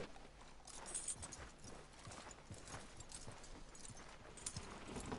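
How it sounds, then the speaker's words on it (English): Horse hooves clip-clop steadily in Red Dead Redemption 2, a dense rhythmic patter of hoofbeats over a busy outdoor ambience, fairly close and continuous, with a brief whinny-like accent. "Are you gonna mount that new horse of yours or not?"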